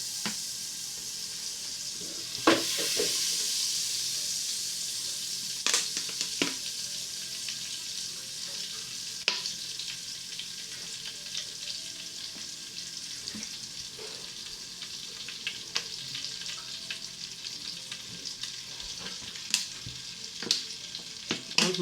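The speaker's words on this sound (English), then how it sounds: "I'm adding my red oil" Red palm oil sizzles and fries steadily in a pot for a beans and yam porridge, a continuous close hiss punctuated by scattered crackles and pops, with no talking.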